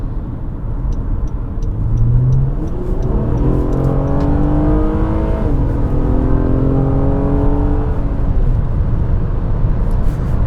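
A 2017 Honda Accord Coupe V6 engine winds up through rising revs heard from inside the car, a loud steady drone climbing in pitch with a brief dip as the gear changes before pulling up again.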